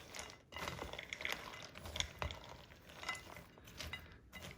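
Liquid ingredients for smoked candied mixed nuts are stirred with a spoon in a bowl, giving faint, irregular scraping and clinking strokes at close range, with no talk.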